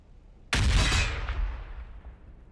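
Grenade blasts in a Warhammer 40,000 battle video game between Astra Militarum and Necron forces: one sudden loud explosion bursts in and then rumbles and crackles as it fades over about two seconds, with no voices.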